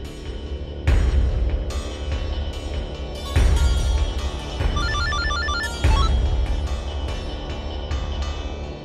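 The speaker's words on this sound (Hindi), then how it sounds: "फोन उठाओ ना" A telephone rings insistently in a Hindi TV drama scene, repeated electronic ringing bursts about every two to three seconds, loud and close, with layered tones and no talking over it.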